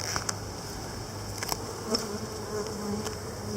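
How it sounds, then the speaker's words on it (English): Honey bees buzzing steadily at close range while a hive is opened and its frames inspected, a dense continuous drone with occasional louder passes of individual bees. "There's a larger bee."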